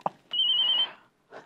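A telephone rings once in a domestic comedy scene, a short bright electronic trill lasting about half a second after a brief knock-like click, with faint room sound trailing off and a soft noise returning at the end.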